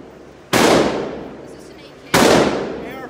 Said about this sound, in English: Well, I guess I'm shooting a rifle, you guys.